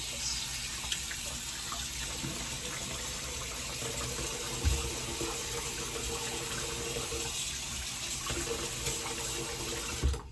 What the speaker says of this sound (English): I want to rinse off your face.